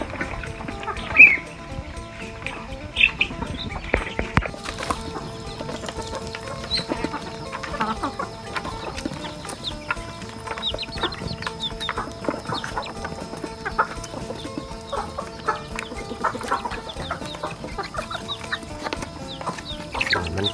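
Backyard chickens kept by a beginner in a box enclosure alongside ducks cluck in scattered bursts, with one sharper call near the start, over steady farmyard background noise.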